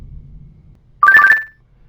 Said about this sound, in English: it's going to give me some sort of a notification